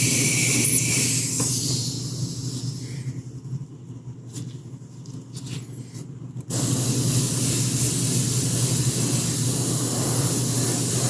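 An airbrush sprays heavily over-thinned acrylic paint onto a 1/4 scale Samurai Wolverine figure. It makes a loud, steady, close hiss that drops quieter midway, then returns to full strength and runs on evenly.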